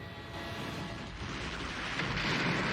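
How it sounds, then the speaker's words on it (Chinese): A dense, roaring rumble fills the clip, broad and heavy like a sustained explosion, from a spaceship exploding in an Ultraman Tiga episode, with no voices. "宇宙飞船原地爆炸"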